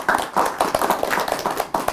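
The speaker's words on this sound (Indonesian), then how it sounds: "Tepuk tangan dong buat Aryani" Clapping for a questioner named Aryani during an Islamic Q&A session with an ustaz, a short burst of distinct, loud close hand claps in a quick uneven rhythm, no speech heard.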